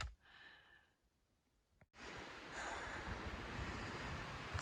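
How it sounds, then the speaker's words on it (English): Wind gusts across an open, rocky mountain trail in the wilderness, a soft breathy rush at first that swells after a brief sharp bump into a loud, steady roar buffeting the microphone. "what you're hearing is wind"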